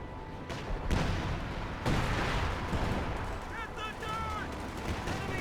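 Heavy gunfire and artillery booms from a Company of Heroes 2 3v3 match rumble in repeated bursts, with a constant dense battle roar and faint chirping effects near the end.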